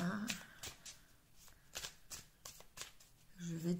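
A green magic tarot deck is shuffled by hand close up, with repeated soft, papery riffles and flutters in quick bursts in a quiet room.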